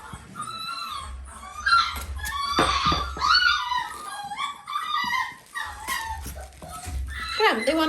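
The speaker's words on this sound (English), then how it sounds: "You guys are little whingers, yes." Dalmatian puppies whimper and yip in high, wavering cries that run nearly continuously at close range, with a few louder squeals toward the end.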